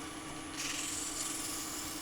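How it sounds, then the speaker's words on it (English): Abrasive rubs against a wooden magic wand cut on a scroll saw in a short, soft, scratchy sanding stroke that lasts about two seconds, close and quiet, with no voices. "And then I'm just going to use a touch of abrasive"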